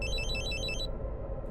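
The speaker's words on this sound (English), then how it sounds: "My phone rang." A phone ringing in an eerie horror setting, a rapid warbling electronic trill that repeats for most of the clip and cuts off abruptly, over a steady low drone.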